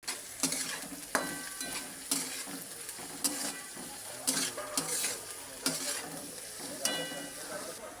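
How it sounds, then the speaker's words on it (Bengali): Cabbage stir-fried in a hot pan, a rhythmic series of spatula scrapes and clacks over a low steady sizzle, close and regular, without speech. "এবার পাতাকপিটা দিয়ে দিচ্ছি।"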